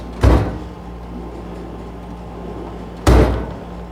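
An ICON tool storage drawer, adjusted to run very loose, slides and bumps to a stop twice, two sharp thudding clunks about three seconds apart over a low steady hum.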